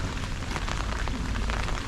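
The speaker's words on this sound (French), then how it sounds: "le fait que tu vois là la pluie tomber dans l'eau là avec les arbres" Steady rain pattering into a small lake surrounded by trees in Japan, a dense continuous hiss of drops on water, close and even throughout with no voices.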